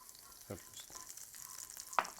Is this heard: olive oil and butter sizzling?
yes